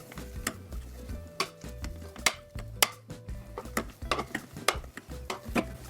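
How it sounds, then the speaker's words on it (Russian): Boiled potatoes being mashed into purée with a potato masher in a pot, giving a series of irregular soft thumps and metallic clinks against the pan, with no talking. "Картофель хорошо толкушкой разминаем в пюре."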